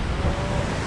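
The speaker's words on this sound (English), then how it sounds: "Look at this water flowing. It's all fresh spring water." Fresh spring water rushing at the second tier of Bridal Veil Falls, a loud, dense, continuous roar close to the microphone, with no talking.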